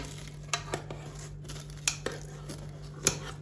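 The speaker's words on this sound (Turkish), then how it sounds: "Tepsimizden çıkaramadığımız için makasımızla kesiyor." Several sharp, crisp snips of scissors cutting through flaky baked cheese börek in its tray, spaced irregularly over a low steady background hum.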